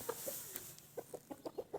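A rooster of a fine breed, kept by a young boy, clucks in a string of short repeated calls. They come faster and more evenly toward the end, close by and otherwise alone.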